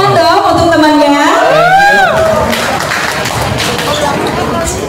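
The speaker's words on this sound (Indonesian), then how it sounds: "Tepuk tangan dong untuk temannya." Fans at a Q&A fan event clap and cheer for a participant called forward: crowd noise and scattered clapping rising under a loud voice and a sung tone, continuing as a busy wash.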